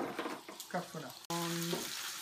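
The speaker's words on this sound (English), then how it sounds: "We've been frying away. Here, the shin, the bones, with some marrow and bits of meat and some onion in my steel pan and some butter." Veal shin bones with marrow and meat, onion and butter frying in a steel pan give a steady close sizzle, with someone speaking over it for most of the stretch.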